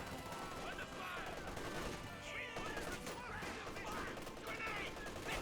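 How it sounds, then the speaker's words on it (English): Rapid bursts of gunfire and explosions from a Company of Heroes 2 World War II battle, sustained and dense throughout under a commentator's voice. "Assault Engineer taking some fire."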